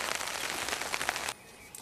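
Rain patters steadily outdoors at a carp fishery, a dense close hiss of drops for over a second before dropping away to a quieter background.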